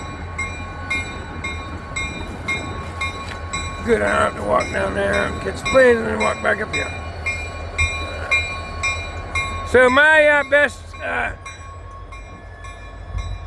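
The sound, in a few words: freight locomotive powering up and pulling train cars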